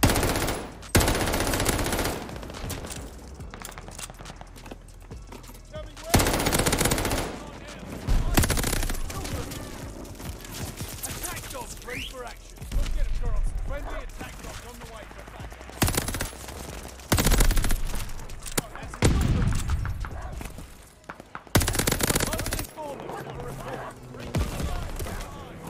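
Rapid bursts of AS44 automatic gunfire in Call of Duty: Vanguard, firing in several loud volleys separated by short pauses, mixed with other game sounds and someone talking over the action.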